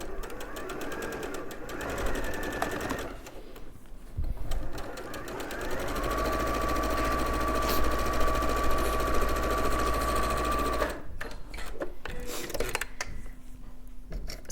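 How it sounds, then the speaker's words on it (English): A sewing machine runs a straight stitch through quilt fabric along a raw edge, a quarter inch in, making a steady close whirring hum for several seconds, with quieter handling and fabric noises before and after. "So just using that straight stitch across this raw edge now."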